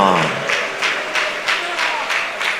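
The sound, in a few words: congregation clapping hands in church service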